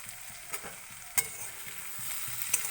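Whole garlic cloves stirred into spices frying in oil for a duck egg curry, with a soft steady sizzle, a few sharp spoon scrapes and clinks against the pan, and faint music underneath.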